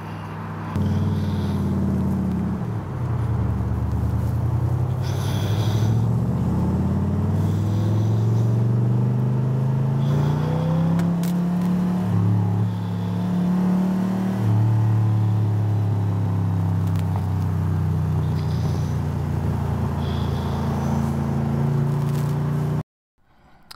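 A 1966 Chevrolet Corvette red roadster's engine idles with a loud, deep, close rumble, its pitch rising and falling through several revs before cutting off abruptly at the end.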